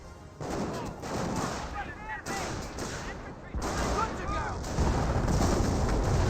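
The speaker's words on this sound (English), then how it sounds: "Scope rifles do get some good hits there on those Panzer Grenadiers as these ATSers are firing down the low ground" Scoped rifles firing on Panzer Grenadiers in Company of Heroes, a busy battle mix of repeated shots and gunfire under a commentator's voice, with bursts continuing across the whole stretch.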